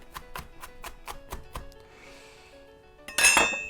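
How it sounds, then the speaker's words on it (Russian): A knife chopping onion on a board for Uzbek samsa, with about seven steady, evenly spaced taps followed by a pause and a louder clattering, rustling burst at the end. "Теперь видите, я таким же макаром нарезаю лук."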